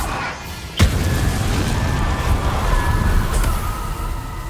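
Confringo spell cast in Hogwarts Legacy, heard as one sharp, loud burst early on, then a sustained rumbling wash of magical noise with a faint bright shimmer and a smaller pop later.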